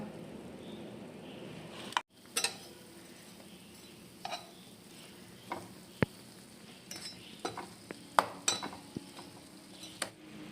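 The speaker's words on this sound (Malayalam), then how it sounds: "റസ്ക്കെല്ലാം പൊരിച്ചെടുക്കുക" Rusk pieces fry in ghee in a pan, a faint soft sizzle broken by scattered clicks and taps of a utensil stirring against the metal.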